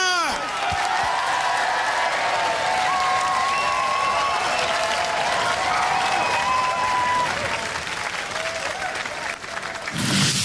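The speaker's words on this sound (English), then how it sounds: "round of applause for Splinter!" A studio crowd at a robot combat competition applauds and cheers the robot Splinter, a loud sustained ovation with whoops, while a voice talks through it before the clapping cuts off near the end.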